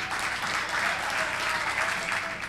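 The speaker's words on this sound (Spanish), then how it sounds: "Y por supuesto, con un aplauso." A small audience at a casual talk event with guest Sergio Ferrari breaks into continuous applause, a dense, even patter of clapping hands held at a steady level for a few seconds.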